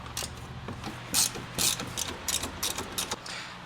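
Hand ratchet wrench removing bolts on a second-generation MINI Cooper, quick close clicking strokes in uneven bursts over a low background hum.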